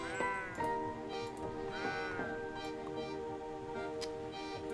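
Sheep in the video game Old Man's Journey give a couple of short bleats over a steady tonal music bed, fairly faint and close.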